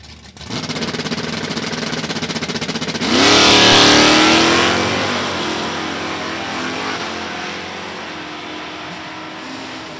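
Ford drag race cars with 302 engines, stick-shift and automatic, launching at Gateway Motorsports Park: a loud steady engine drone swells into a roaring rev-up and acceleration, then settles into a sustained mid-pitched engine roar.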